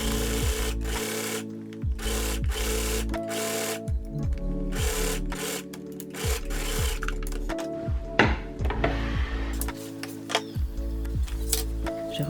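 A sewing machine stitches a fabric top in repeated bursts of rapid mechanical whirring, separated by short pauses, close and fairly quiet, with no talking.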